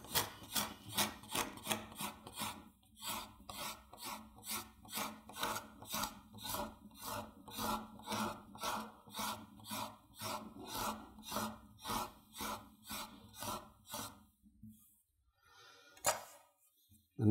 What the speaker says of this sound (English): I need to grab a good sharp card scraper, and we're just going to, there we go, scrape that stuff right down.